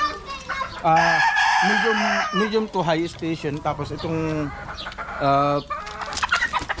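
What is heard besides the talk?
rooster crowing and clucking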